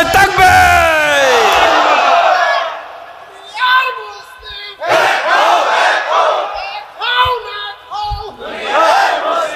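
A large crowd at an Islamic mahfil gathering in Bangladesh roars Allahu Akbar in loud, unified chants, answering a takbir call in several forceful bursts separated by short pauses.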